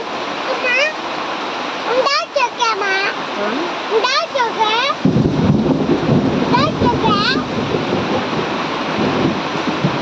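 Heavy rain pours down in a steady hiss outside a dim kitchen, growing louder and denser midway, while an adult and someone talk over it; no distinct thunder stands out.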